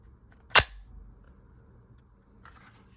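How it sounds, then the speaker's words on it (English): A single sharp metallic snap rings out as a rifle bolt is released and slams closed, briefly ringing, followed by quiet and a faint small clatter later. "then we're gonna depress the bolt release"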